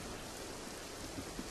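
Rain falling as a sound effect in a radio drama: a soft, even hiss of steady rainfall with a couple of faint pattering drops, heard alone at low level.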